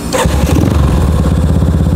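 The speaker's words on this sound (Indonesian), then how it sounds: "Kita cek sound dulu cuy untuk Yamaha Scorpio dengan konsep Brat Style ini." A custom brat-style Yamaha Scorpio motorcycle engine idles loud and close with a deep, throbbing rumble after a brief sharp rev at the start.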